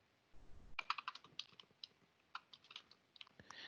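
Rapid computer keyboard typing, close and quiet, with a burst of crisp key clicks and a few shortcut presses, heard alone without talk.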